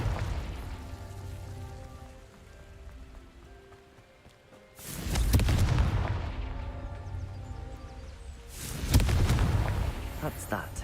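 Two deep, booming blasts from the Confringo blasting spell in Hogwarts Legacy, each a loud burst with a long rumbling tail, spaced a few seconds apart over a low ambient bed.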